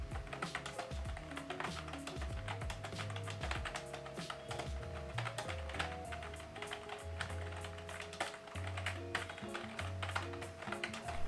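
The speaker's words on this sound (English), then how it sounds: "I will show you how the keyboard sounds when you are typing with it." Steady typing on a Redgear Blaze 3 MT01 membrane gaming keyboard, soft and muffled: rapid irregular key taps close up, continuing without pause for several seconds with no talking.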